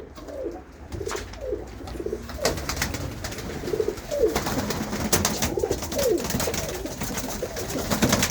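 Racing pigeons of Punjabi breeds coo in a loft, a series of soft throaty coos repeating every second or so at close range over a constant background of rustling and murmur.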